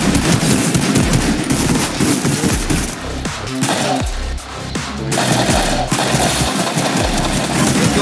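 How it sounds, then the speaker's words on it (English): Rapid bursts of automatic gunfire crackle in a Fortnite match, loud and close, with repeated rattling volleys, a brief lull near the middle, then continued firing over a low mechanical hum. "I hear gunfire."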